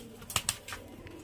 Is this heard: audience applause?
no